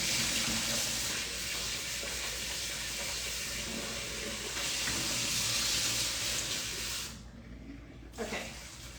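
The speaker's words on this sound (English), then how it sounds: "Hold on 1 second while I rinse this." Pork bones being rinsed under a running tap, a steady rushing hiss of water that cuts off briefly near the end, with a soft clunk after it.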